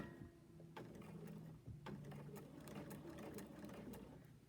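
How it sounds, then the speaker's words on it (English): A sewing machine stitches through fabric in a steady mechanical run with a few brief stops and restarts, close up and fairly quiet, with no one talking over it. "now I'm going to stitch this one more time"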